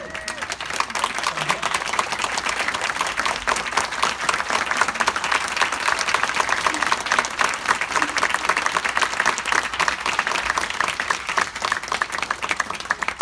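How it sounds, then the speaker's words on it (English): Sustained applause fills a naturalization ceremony hall, a dense even roar of many hands clapping at steady loudness throughout. "because of the applause that you get just for stating your name"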